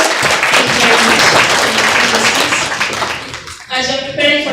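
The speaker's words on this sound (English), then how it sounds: "Let's give a round of applause to our speakers." Conference audience at a surgical association meeting in Morogoro, Tanzania applauding the speakers: a loud, dense burst of clapping that fades out, followed by a voice talking.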